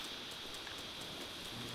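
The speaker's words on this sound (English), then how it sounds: "it seriously has to rain right when I'm trying to, climb a mountain" Rain falls in the Zelda: Breath of the Wild game world as a player tries to climb a mountain, a soft, constant hiss that stays faint and unbroken throughout.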